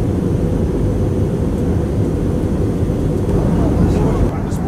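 Steady, loud broadband cabin roar inside a low-cost carrier airliner about two hours into a five-hour flight, a continuous low rumble with no talk.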